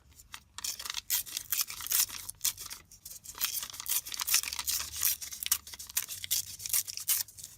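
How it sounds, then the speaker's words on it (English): Paper being torn by hand for a Christmas junk journal, a series of close rasping rips in uneven strokes, some long and some short, with crinkly handling between them. "going to tear down."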